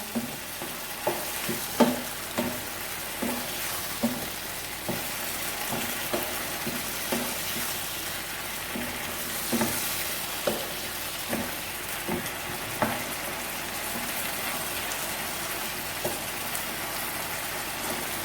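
Chilli chicken with green chillies fries on a high flame, a loud continuous sizzle broken by regular scraping strokes of a spatula against the pan.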